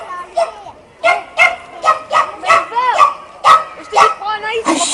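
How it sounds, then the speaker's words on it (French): A dog barks rapidly and repeatedly, loud and close, in a steady run of yappy barks with whimpery tones. "Un chien."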